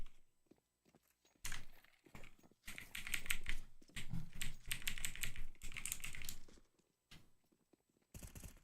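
Rapid bursts of typing on a computer keyboard with a faulty O key, close clicky keystrokes in clusters separated by short pauses, with no talk.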